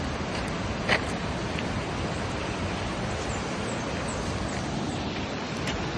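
Piduan Falls in Don Victoriano, Misamis Occidental, pours as a steady, dense roar of falling water that fills the whole stretch evenly and loudly, with no voices over it.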